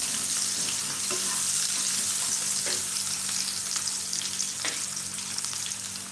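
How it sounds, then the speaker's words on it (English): Red onions, garlic and ginger frying in a pan for chicken curry, a steady loud sizzle with faint scraping of a spoon as they are stirred. "So keep stirring your red onions and removing the garlic and the ginger that have they are stuck in your pan,"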